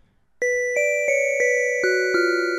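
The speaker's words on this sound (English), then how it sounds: "which is a little bit different of a bell sound" A synthesized bell tone from a Teenage Engineering OP-1 synthesizer strikes repeatedly at a steady pace, each ring bright and sustained with shimmering overtones, the pitch shifting slightly between strikes.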